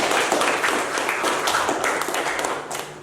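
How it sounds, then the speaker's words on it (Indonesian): A classroom of children clapping together in a sustained burst of applause for about three seconds, fairly loud and dense with overlapping hand claps. "Tepuk tangan sekali lagi."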